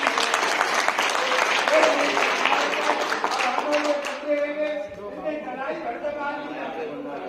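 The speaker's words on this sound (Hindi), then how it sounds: "एक बार जोरदार तालियां" Applause at a Panchal Mahasabha Rajasthan blood donation camp and talent honour ceremony, a large crowd clapping loudly and steadily before tapering off, with people talking and a voice on a loudspeaker over the fading claps.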